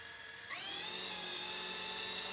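A radio-controlled model's electric motor on an EdgeTX TX16S setup spools up sharply as throttle is applied, rising from a low idle hum into a loud, steady high-pitched whine, close with no talking.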